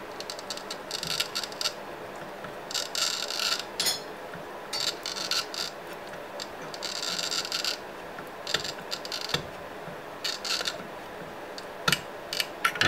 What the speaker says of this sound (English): we'll scribe a line right in that one little area